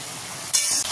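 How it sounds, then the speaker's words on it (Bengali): Tomato, ginger and green chilli masala fries in a pan with a steady close-up sizzle that grows louder and brighter halfway through, with no voices. "এই মশলাটাকে ভালো করে কষিয়ে নিতে হবে।"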